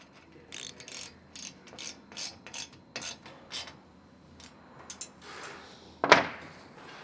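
Nuts are tightened on a window panel mount, heard as a series of short, close ratcheting and clicking bursts in an uneven rhythm, ending with one sharper knock.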